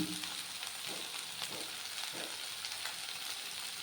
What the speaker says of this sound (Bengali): বাকি সবজিগুলো কিন্তু হালকা করে ভাজা হয়ে গেছে